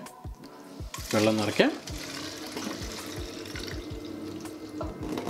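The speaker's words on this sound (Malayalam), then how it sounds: "നമുക്കിതാ ഇവിടെ നമുക്ക് വെള്ളം നിറയ്ക്കാം" Water splashes and gurgles as it is filled into a homemade water gun, a loud burst around the middle of the clip followed by steadier trickling, with some handling knocks and no talking.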